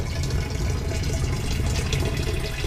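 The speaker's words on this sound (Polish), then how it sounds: "Ta woda się leje powoli." Water runs steadily and slowly from a tap in a low, continuous gushing stream, close by, with no voices.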